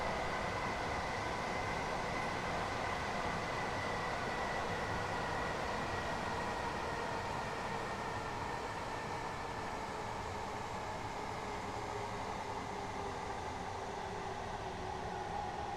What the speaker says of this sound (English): We're going to go ahead and start slowing the train.